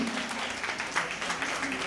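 Audience applause at a music festival concert in Thambaram, a steady, dense wash of clapping from a crowd that carries on evenly for about two seconds without a clear break.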